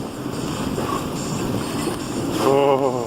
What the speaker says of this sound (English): 49, 50 mile an hour wind